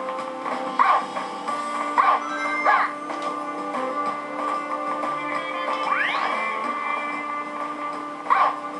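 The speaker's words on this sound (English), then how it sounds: "Shut up already, stop barking." A dog barks in the Sonic 06 video game, several short sharp yips spaced across the stretch at roughly one-second gaps, fairly loud over a steady droning game soundtrack with a swooping effect in the middle.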